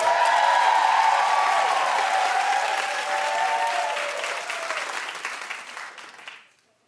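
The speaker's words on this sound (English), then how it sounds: "They clapped on their own." A studio audience breaks into sustained applause, loud and dense at first, then gradually thinning and tapering off to silence after about six seconds, with a voice faintly audible underneath.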